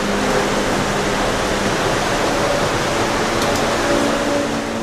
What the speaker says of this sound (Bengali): কন্টিনিউয়াস জল পড়ছে।